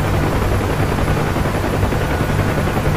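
A UH-1H Huey helicopter in DCS World keeps up a steady, loud rotor thrum: a continuous low, chopping drone with an engine whine layered on top, heard from inside the cockpit with no talk.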